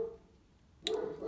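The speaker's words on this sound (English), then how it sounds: "my dog is barking in the background" A pet dog barks somewhere in the background of a home room, one short sharp bark followed by a fainter whine-like tail, fairly distant and alone.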